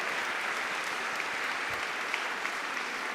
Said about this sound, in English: please, a round of applause to yourselves